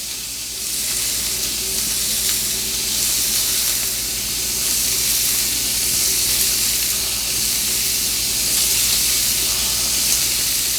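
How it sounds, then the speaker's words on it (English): Sausages browning in a frying pan give off a steady, close sizzle and hiss that runs unbroken the whole time, with no talking over it. "while these sausages are finishing up cooking"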